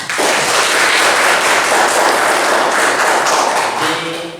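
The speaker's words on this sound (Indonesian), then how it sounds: "Oke, tepuk tangan." A classroom group claps together at a teacher's lesson on banking, loud and close, with sharp individual hand claps in a steady burst that tapers near the end.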